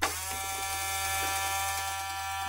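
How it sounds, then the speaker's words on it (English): A small electric motor driven by an Adafruit i2c Motor HAT hums in a steady, close, high-pitched buzz after a brief click at the start. "Motor seems somehow slower."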